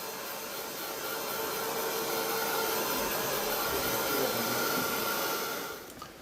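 A hair dryer blows in a continuous, steady whoosh while drying paint on a painted background, running loud and unbroken for several seconds before cutting off at the end, with no talking.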